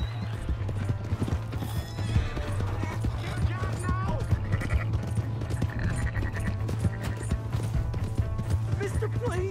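Horse hooves clip-clop steadily in Red Dead Redemption 2, a close, continuous gallop with a horse neighing, over a low droning hum while characters argue.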